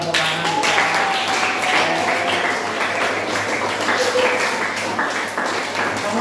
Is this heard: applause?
yes